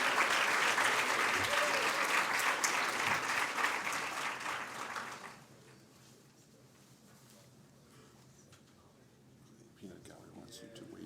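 Crowd applause at a medical school white coat ceremony, a loud wash of clapping that cuts off after about five seconds, leaving a quiet room with faint talk.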